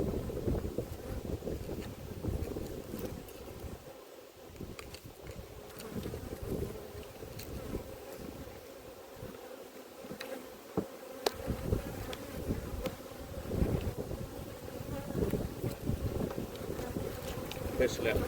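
Honeybees buzzing in a steady, dense drone around an open apiary hive, close and continuous, with occasional wind noise on the microphone.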